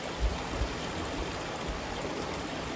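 Steady, soft rushing of a flowing creek in Toiyabe National Forest, a continuous gentle burble with faint low thumps, no voices.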